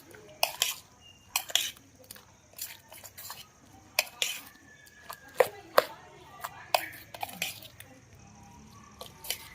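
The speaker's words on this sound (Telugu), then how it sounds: "ఒకసారి మొత్తం మిక్స్ చేద్దామండి." Raw cucumber chutney is mixed with lemon juice in a bowl, making scattered clinks, scrapes and soft wet knocks in an uneven rhythm, close and fairly quiet with no talking.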